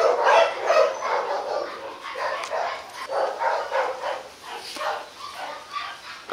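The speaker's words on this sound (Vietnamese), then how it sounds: "chó bản màu vàng" A golden bobtail village dog barks and yips in a quick, uneven series of sharp, close calls lasting several seconds, fairly loud, with a whiny edge to some barks and no talking.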